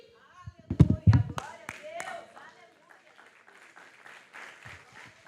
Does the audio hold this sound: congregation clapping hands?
yes